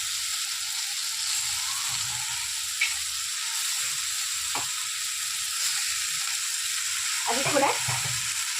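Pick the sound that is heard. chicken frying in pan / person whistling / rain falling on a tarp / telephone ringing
chicken frying in pan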